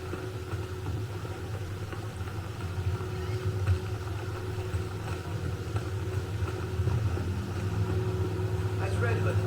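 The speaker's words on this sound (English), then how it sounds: "Sounds like a freaking motorcycle is like pulling up behind me constantly." A steady, droning engine hum from a motorcycle approaching from behind in Gotham Knights, played on an Asus ROG Strix G15 laptop, persistent and moderately loud with constant tonal whine.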